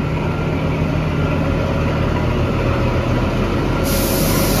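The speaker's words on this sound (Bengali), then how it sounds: "এই আমাদের ট্রেন এই মুহূর্তে বেরিয়ে যাচ্ছে স্টেশন ছেড়ে" The Kalka-Shimla toy train, the Him Darshan Express, pulls out of the station. It makes a steady, continuous rumble of engine and rolling stock, loud and close, with no talking.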